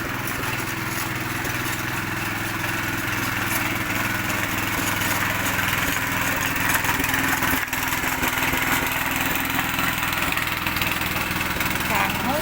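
A tractor engine runs steadily while preparing to plough cow manure for making fertiliser, a continuous close mechanical chugging and rattling drone, with a voice talking over it.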